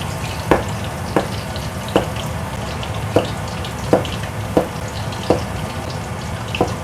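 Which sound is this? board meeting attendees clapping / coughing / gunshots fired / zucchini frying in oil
zucchini frying in oil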